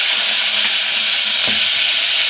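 Ginger-garlic paste added to hot oil with fenugreek seeds for a fish curry gives a loud, steady, close sizzle and fry that runs without a break, with faint stirring beneath it and no voices.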